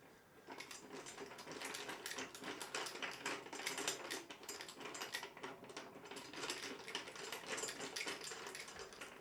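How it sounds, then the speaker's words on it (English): A 17mm socket wrench ratchets steadily on bicycle parts, a close, continuous run of fast mechanical clicks that holds through the whole stretch with no one talking. "The 17mm outer diameter socket wrench fits."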